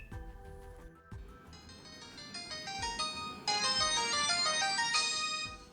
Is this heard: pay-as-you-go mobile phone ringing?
yes